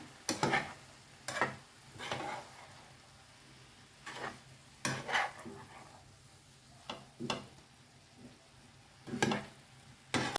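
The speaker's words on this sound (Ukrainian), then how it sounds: "Нехай смажиться." Quiet sizzling in a pan, broken up by intermittent scraping and stirring clatters at irregular intervals.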